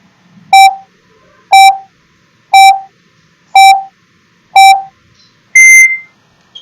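A quiz countdown timer gives five evenly spaced electronic beeps about a second apart, then a final higher, brighter tone, loud and clean over near silence.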